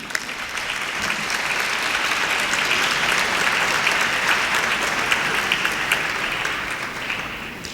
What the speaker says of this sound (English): Their dedication, hard work, and commitment deserves a big round of applause.